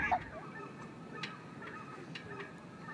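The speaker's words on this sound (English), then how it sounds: "Canadian geese? Are you guys all done fighting for your territory?" Distant Canada geese honking outdoors, a few scattered faint calls over steady background noise.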